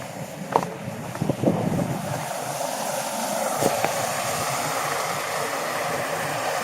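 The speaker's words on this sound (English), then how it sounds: "There's the falls." Falling Water Falls in Arkansas pours through cracks in basalt and cascades into a swimming hole, giving a steady broadband rush of water that holds constant, with a few handling knocks and wind buffets near the start.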